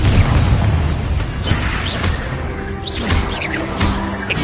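The Confringo fire-blast spell in the video game Hogwarts Legacy bursts with booming impacts and swooshing crackles, several loud hits in close succession over a rumbling battle background.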